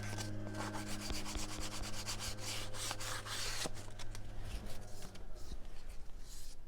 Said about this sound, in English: I'm going to take a little piece of sandpaper to the side of this right here